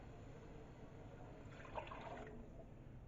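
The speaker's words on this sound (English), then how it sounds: "I'm going to put 2 cups of water" Two cups of water pour steadily over beans in a pot for a couple of seconds, a soft splashing rush rising over a low background hum.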